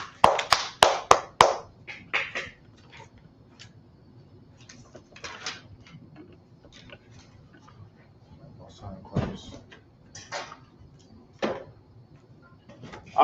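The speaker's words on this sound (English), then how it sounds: "Clap it up for the class" A few sharp claps from a small group at a class gathering, loud at the start, then thinning into scattered, sparse claps and light knocks across a quiet room.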